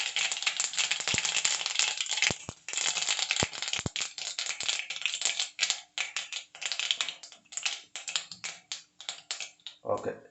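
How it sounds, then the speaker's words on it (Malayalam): Mustard seeds splutter and pop in hot oil while beans and carrot thoran is being cooked, giving a dense crackling sizzle broken by sharp ticks, with a person talking over it. "കടുകിട്ട് നല്ലോണം പൊട്ടട്ടെ"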